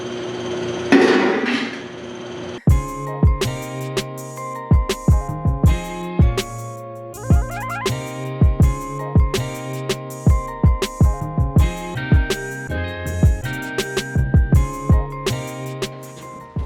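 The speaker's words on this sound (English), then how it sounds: "I'm going to take some stretching dies and I'm going to stretch on each side of these divots" Sheet metal flange on a custom driveshaft tunnel being stretched with stretching dies, a close run of sharp ringing metallic blows in an uneven rapid rhythm, preceded by a short burst of rustling, no talking.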